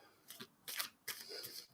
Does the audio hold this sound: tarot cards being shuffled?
yes